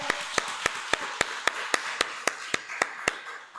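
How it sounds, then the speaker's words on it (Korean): A church congregation at an Easter Sunday morning service claps in a slow, even beat, about fourteen sharp claps in unison that ring out clearly over a faint room hum. "우리 박수 영광 드립니다"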